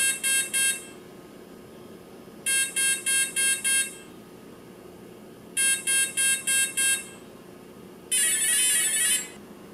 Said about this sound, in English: Now we're going to hear five beeps, which is throttle response speed.